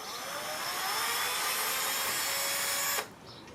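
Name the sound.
drill drilling a hole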